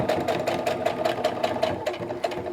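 A sewing machine runs a seam along a fabric face mask tie strap, close and steady, its rapid needle strokes forming an even rhythmic chatter with no voices.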